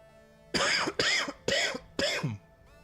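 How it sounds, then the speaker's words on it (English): Four harsh coughs in quick succession, close and fairly loud, each a short voiced burst with brief pauses between them in an otherwise quiet room. "I just coughed up something gross."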